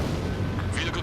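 Missiles being fired in the combat flight game Ace Combat 7, a brief dense roar and rumbling blast with rushing launch noise, under a speaking voice.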